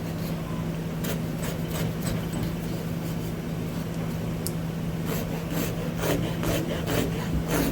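Wood rasp or file cutting grooves into a wooden rifle stock, a steady scraping rub with repeated strokes over a constant low background hum, close and moderately loud.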